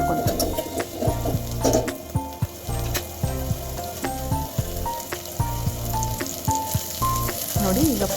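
Vegetables frying in a pan for khichdi, with steady sizzling and crackling plus occasional clinks and scrapes of stirring, moderately close and without talk.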